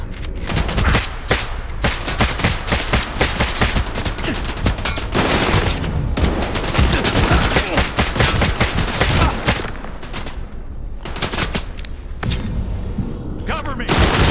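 Sustained gunfire from the video game STALKER 2, dense bursts of automatic shots and heavy thuds filling the whole stretch at close, loud level, with short lulls between volleys.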